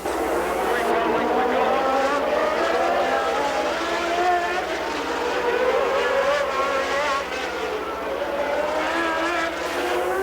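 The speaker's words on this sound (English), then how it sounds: "That's Piquet going outside, trying to get by the red Ferrari, but it can't do it." Formula 1 cars race at the 1981 Long Beach Grand Prix, one of them a red Ferrari. Loud, continuous high-revving engine howl rises and falls as they pass, with a commentator talking over it throughout.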